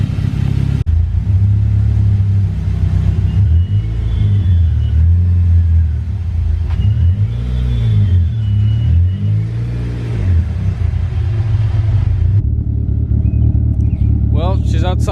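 A big-turbo first-generation DSM car engine with a leaking brake booster idles with a deep, uneven rumble, dipping and surging at times, loud and close, ending with faint clicks and light noises.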